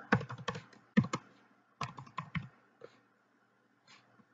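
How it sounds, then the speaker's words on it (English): Password being typed on a computer keyboard: bursts of quick, close key clicks in two clusters, then a few isolated faint taps as the typing trails off. "as you're typing in, you're gonna do your password"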